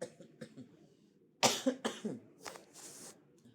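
One person coughing hard in a warm room: a burst of several harsh coughs in quick succession, close and loud, followed by a couple of weaker coughs and throat sounds.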